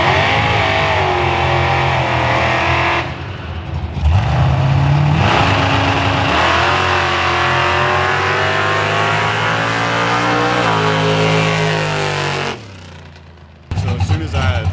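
A big block Chevy Camaro launches hard and accelerates, its engine roaring loudly with rising revs, a brief gear-change dip, then pulling on again before cutting off abruptly near the end.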